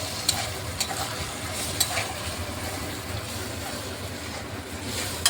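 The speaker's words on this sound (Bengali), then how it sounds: "মশলা দিয়ে আমি ভালোভাবে চালটাকে ভেজে নিচ্ছি" Rice being fried with cumin paste, turmeric and green chillies in a home kitchen, a steady broadband sizzle with occasional scrape-like stirring accents, close and continuous throughout.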